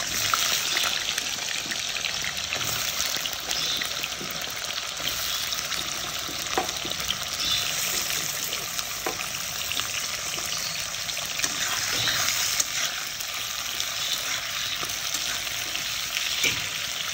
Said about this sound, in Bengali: আর চিপস করে দেবো। তেলটা গরম হয়ে গেছে